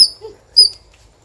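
A dog at a village home gives two short, high yelps about half a second apart, close by and sharp against a quiet background.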